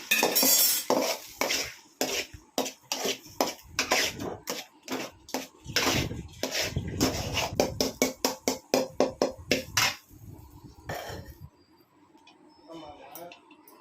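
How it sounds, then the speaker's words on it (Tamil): Egg being scrambled in a pan with a metal spatula for an egg rice lunch box, rapid close clattering scrapes and taps in a quick rhythm for about ten seconds, then fading into quieter handling, with a voice talking over part of it. "இப்போ இதில் முட்டையை ஊற்றி கொஞ்சம் பொடி மாஸ் மாதிரி பண்ணி எடுத்துக்கலாம் தனியாக."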